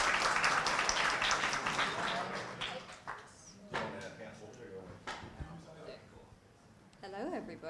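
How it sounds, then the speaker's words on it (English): Audience applause at the HalfStack Shoreditch 2022 tech conference, a burst of clapping and cheering that thins out after a few seconds, leaving scattered claps and room noise before a voice begins. "a round of applause"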